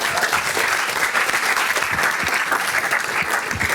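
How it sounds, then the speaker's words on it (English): A class of students claps for a classmate during a school goal-setting session, a steady dense round of applause throughout with no talking over it. "Hey, clap for him."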